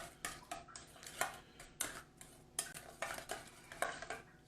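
Burrito filling with spices mixed gently in a bowl, a run of soft, rhythmic scrapes and clinks of a utensil against the dish, faint and close, with no talking.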